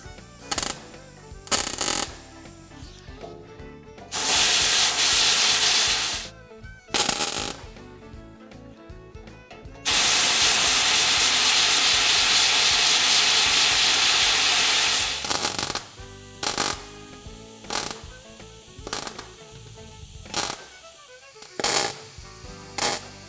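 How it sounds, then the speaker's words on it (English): MIG-style welding of a patch panel into a car body: sharp, crackling bursts of arc sizzle in short tacks and longer sustained runs of several seconds, with quiet pauses between welds. "it looks to me like we're about ready to start welding"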